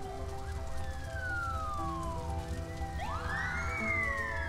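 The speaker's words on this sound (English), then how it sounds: "I hear fire trucks." Fire truck sirens in the SimCity 5 city-building game, rising and falling wails layered over a steady low hum, faint and somewhat distant, with a sharper rising siren sweep toward the end.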